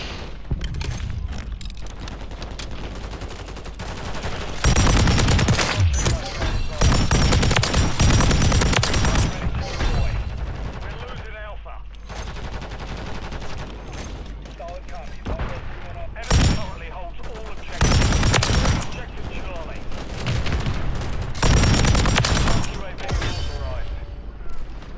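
Pulemyot machine gun fire in Call of Duty Modern Warfare 3 multiplayer, loud bursts of rapid automatic shots repeating across the clip with gaps between, mixed with game effects and voices.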